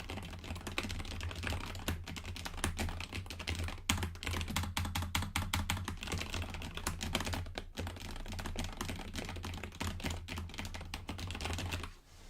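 Rapid, continuous clatter of a Nomad mechanical keyboard fitted with custom switches, dense keystrokes running steadily for over ten seconds, close and clear with no speech.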